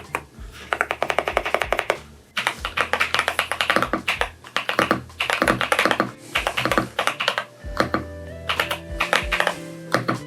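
Rapid clattering keystrokes on an EpoMaker Shadow S mechanical keyboard, loud and close, coming in dense bursts separated by brief pauses, with no talking over them.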